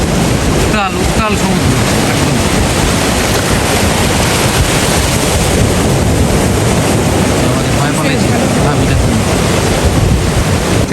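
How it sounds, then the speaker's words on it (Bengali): Loud, continuous roar of ocean surf at Mirissa beach, Sri Lanka, with wind buffeting the microphone, waves washing in without pause. "এই যে সমুদ্র মহাসাগর"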